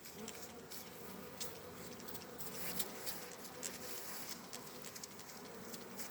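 Honeybees buzz at a hive in a dense, continuous drone of many insects close by, with small flickers of individual wingbeats and no talking.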